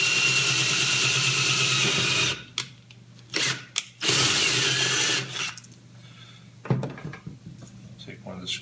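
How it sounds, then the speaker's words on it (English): A power drill bores holes in a homemade stir plate box, whining loudly for a couple of seconds, then in several short bursts separated by quiet pauses. "So just have to drill some holes and get this all situated in here."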